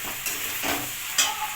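Pasta stirred in a pan gives a short burst of close sizzling with a few quick scraping strokes of a utensil, no voices.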